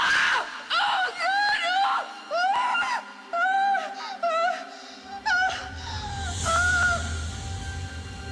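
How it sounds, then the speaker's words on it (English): A person screams in a string of short, wavering, whimpering cries separated by brief pauses, before the sound gives way to a rougher noisy burst. "I just like hearing you scream."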